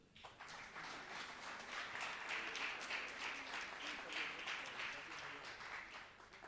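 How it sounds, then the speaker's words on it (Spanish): A university seminar audience in La Paz gives a sustained round of applause, steady even clapping throughout, heard faintly and at a distance. "queremos cerrar este momento con un fuerte aplauso una vez más"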